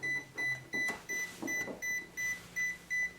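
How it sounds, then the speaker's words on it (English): Alarm of a Smart Fieldmeter digital electric field meter beeping in a steady repeating pattern of short, high, even tones, about three per second, quiet and clean against faint background hum. "Now alarm is on."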